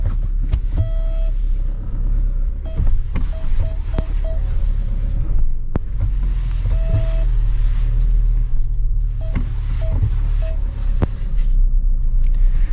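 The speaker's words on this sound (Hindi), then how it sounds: "सुबह गाड़ी एक बार आगे बढ़ानी है, फिर उसके बाद ही रिवर्स।" A Mahindra Thar rolls forward on a mountain road near Tawang, giving a steady low engine and road rumble throughout with a few faint clicks and thumps, loud and close, with no talking.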